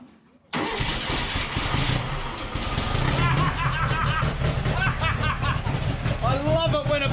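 A VW Baja engine cranks over briefly, then catches and settles into a loud, close idle, with voices talking over the running engine.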